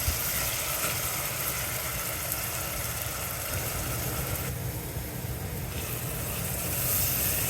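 Onions and tomatoes with salt sizzle and sauté in a pan for a king fish curry, a steady broadband crackle that stays close and continuous, with no talk.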